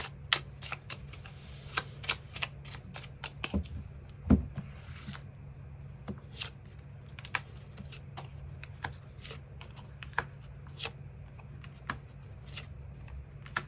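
Tarot cards shuffled to draw an extra card, a run of crisp irregular clicks and riffles close up, with one heavier thud midway and no voices.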